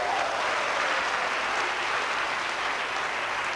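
A church congregation in Abidjan, Côte d'Ivoire breaks into steady, dense applause that fills the room at an even level for several seconds, with no one speaking over it.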